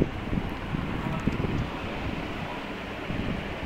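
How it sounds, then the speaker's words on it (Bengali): Strong wind blowing outdoors on a late afternoon after light rain, a steady broadband rush with gusty buffeting against the microphone, loud and continuous throughout without any talk. "বাতাসও ছিল সেদিন খুব,"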